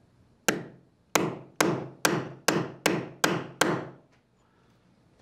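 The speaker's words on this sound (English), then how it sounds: "The fitting can be driven using an arbor press or hammer." A hammer drives a grease fitting into a McGill cam follower: eight sharp, ringing metal strikes at a steady pace, close and loud, each decaying quickly, with no talking.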